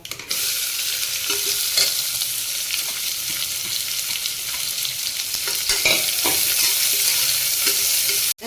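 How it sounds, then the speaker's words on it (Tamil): Chopped onions dropped into hot oil with fried urad dal, cumin and mustard seeds in a pan, sizzling steadily and loudly while a spoon scrapes and stirs in occasional clicks, no talk. "இப்போ நம்ம கட் பண்ண வெங்காயத்தை இதில் போட்டுருவோம்."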